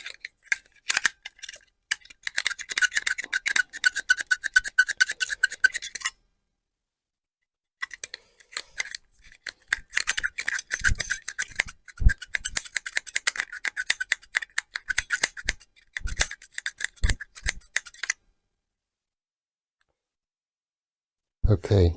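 600 grit sandpaper taped to a tool end rubs gently against a terminal inside an electronics battery box, making dry, scratchy bursts of close, rapid scraping that stop for a couple of seconds and then continue.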